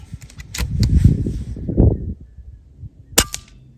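Beeman 2028 air pistol firing: a single sharp, close crack near the end, preceded by low rumbling handling noise and a few small clicks.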